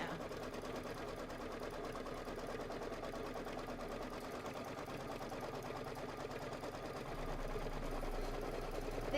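Sewing machine stitching to tack down a quilted table topper, a steady, moderately quiet whir of rapid needle strokes running continuously with slight swelling toward the end.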